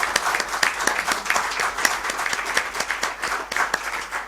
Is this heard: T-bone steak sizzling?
no